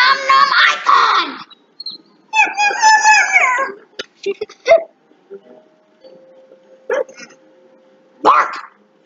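A cartoon dog in Overcooked 2 gives a few short barks and yips between bursts of animated character voices, with quiet gaps in between.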